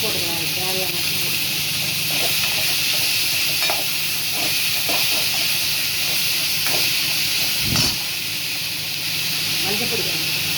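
Tomatoes and salt sizzle and hiss steadily in a pan for tomato kurma, a close continuous fry with occasional stirring clinks, while a voice talks over it.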